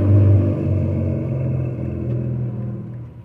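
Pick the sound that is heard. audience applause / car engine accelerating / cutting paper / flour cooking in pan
car engine accelerating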